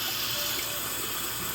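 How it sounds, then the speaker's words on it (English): Cold water streams from a kitchen tap over a pressure cooker to release its pressure, a steady, close hiss that runs unbroken throughout. "Then to release the pressure, you run under cold water."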